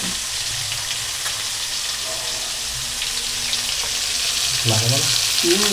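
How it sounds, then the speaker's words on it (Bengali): Eggs fry gently in oil over a low gas flame for an egg and soybean curry, a steady soft sizzling hiss close by, with a brief faint voice near the end. "এই কারণে আস্তে আস্তে করে গ্যাস কম আগুনে ভাজতে হবে।"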